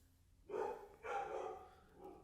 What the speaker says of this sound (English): I got some dogs barking.